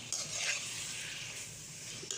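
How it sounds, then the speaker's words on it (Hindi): Chopped tomatoes fry for a chicken stew and are stirred in a pan, a soft continuous sizzle with faint scraping of the spoon, quiet and close, with no talking. "टमाटर शामिल करके इसको हम थोड़ा सा भूनेंगे"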